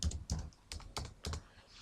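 Typing on a computer keyboard: about five quick clusters of light key clicks in an irregular rhythm, close and fairly quiet, with no talking.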